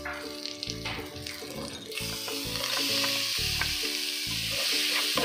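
Dried red chilies, ground pepper, ginger and garlic roast in a hot pan while being stirred, a bright sizzle that swells and thickens partway through, heard over melodic background music.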